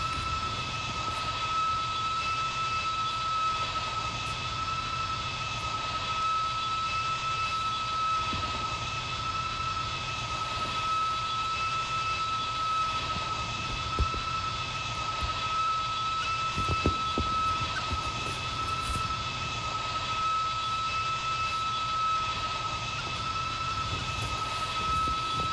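A private jet in the Roblox game Brookhaven hums with a steady, moderate engine drone as it approaches to land, constant and continuous throughout with a faint high whine on top.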